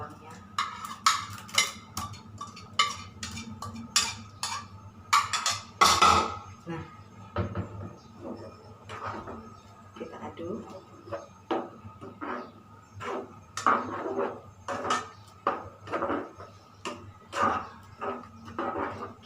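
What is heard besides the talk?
cooking chili and shallots in a pan until the water evaporates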